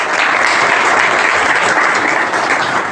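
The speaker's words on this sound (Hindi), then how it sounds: "एक बार सभी टीचर्स के लिए जोरदार तालियां बजा दो भाई।" Loud, continuous audience applause for teachers at a coaching institute event, a dense roar of many hands clapping close by and steady throughout, without speech.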